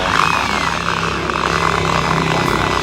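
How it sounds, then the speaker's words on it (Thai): Power drill boring holes through a carbon fiber hood on a Toyota Revo pickup, a loud, steady whining grind held nearly unbroken for the full stretch, close to the mic with no talk. "เจาะเอาสว่านเจาะให้เป็นรู"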